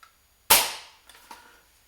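A KOER Dragunov SVD airsoft sniper rifle, a King Arms clone, fires a single sharp, loud close shot, followed by a short decaying rattle of the mechanism.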